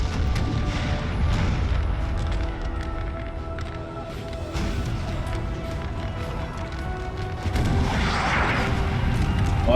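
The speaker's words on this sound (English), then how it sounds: "So we got a lot of artillery here." Distant artillery fire in the Napoleonic strategy game NTW3, dull booms and scattered shots rolling through a steady battlefield din across the whole stretch, with faint voices occasionally beneath.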